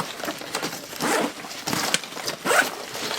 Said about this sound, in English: On the Falcon, you can zip this bad boy all the way open.